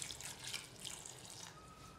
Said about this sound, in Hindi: मैं इसमें ऐड कर रही हूँ पानी।